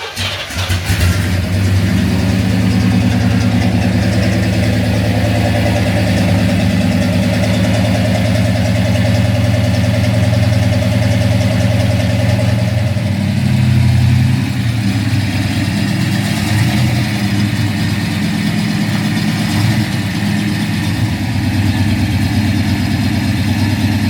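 A 1968 Chevrolet Chevelle SS 396 V8 cranks and fires, then settles into a loud, close, rumbling idle with a steady throb, shifting slightly in tone partway through as it runs continuously without talk.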